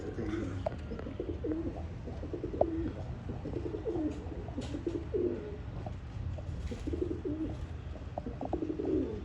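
Pigeons of an old-line breed offered for sale in Bangalore coo steadily, several birds overlapping in soft, rhythmic low calls, close by and continuous throughout.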